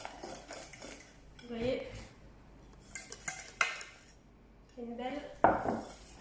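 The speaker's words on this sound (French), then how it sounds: "Et on va mélanger." A mixture for chocolate éclairs is stirred in a bowl, giving soft intermittent scraping and clinks of utensil against the dish, fairly quiet, with someone speaking briefly in between.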